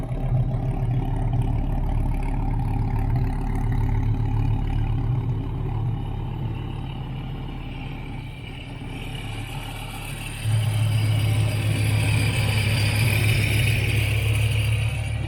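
A fifth-generation Dodge Viper engine with headers, no catalytic converters and a catback exhaust idles loudly with a deep, steady burble, then its rumble swells louder near the end.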